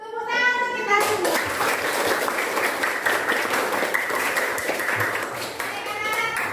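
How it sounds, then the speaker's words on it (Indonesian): Schoolchildren in a junior high classroom guidance session break into lively clapping, close and sustained, with a voice speaking before it and children's voices rising again near the end. "Tepuk tangan untuk kita semua."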